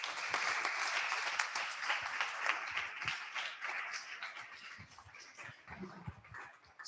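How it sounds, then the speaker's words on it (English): A space business conference audience applauds after presenters are thanked, a soft, distant patter of many hands clapping that holds steady and then gradually thins out. "please a round of applause for all of them"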